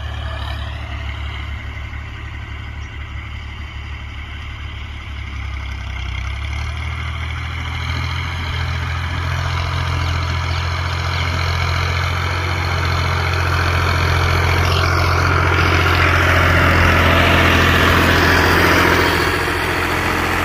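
Fiat 480 tractor from 2015 running with a loud, continuous low diesel rumble that holds steady and swells slightly louder toward the end, with no talk over it.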